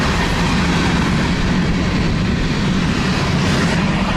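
La Bestia, a migrant freight train in Mexico, rumbles past close by with a steady, loud, continuous roar of rolling wagons and a faint clatter, no voices.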